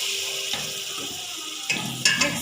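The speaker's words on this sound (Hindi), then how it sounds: "मिक्स करेंगे और 2 से 3 मिनट अच्छे तरीके से इसकी भुनाई करेंगे।" Masala spices roast in a pan with a splash of added water, giving a steady close sizzle broken by stirring scrapes and a couple of louder crackling bursts near the end.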